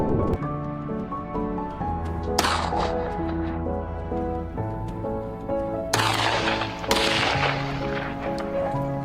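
Gunshots from a wild hog hunt crack out sharply several times, some in quick succession, over continuous background music.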